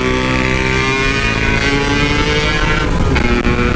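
Motorcycle engine fitted with a PWL carburetor revving loudly and close, a continuous harsh buzzing drone with rising and falling pitch and no speech.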